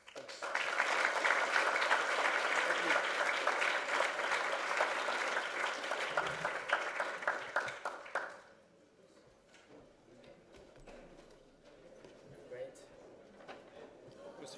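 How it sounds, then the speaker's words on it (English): Audience applause after a talk on planning, ecology and landscape, a sustained dense round of clapping for about eight seconds that then cuts off abruptly, leaving quieter room sound with people beginning to talk. "I wanted to again encourage us to give a good applause"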